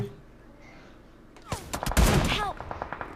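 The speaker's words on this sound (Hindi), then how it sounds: "देखो गोली चलाई थी, हेडशॉट ही था" After a quiet stretch, a loud, rapid burst of gunfire erupts up close in the video game BGMI (Battlegrounds Mobile India), several sharp shots fired in quick succession.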